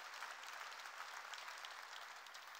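A church congregation claps together in steady, dense applause, heard fairly faint and distant for a few seconds with no voices on top.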